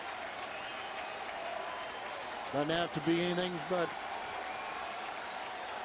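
A ballpark crowd at a Milwaukee versus St. Louis baseball game in August 2011 keeps up a steady, distant roar of cheering, while a commentator speaks briefly over it.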